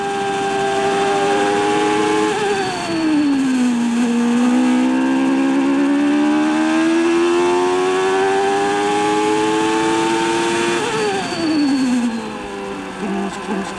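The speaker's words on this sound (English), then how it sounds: "This sounds like one of the variomatic gearboxes that Patrick Head worked on." A 1994 Formula 1 car at the Spanish Grand Prix, David Coulthard's Williams stuck in one gear with a gearbox problem, drones loudly and continuously, its engine pitch rising and falling smoothly without any gear changes.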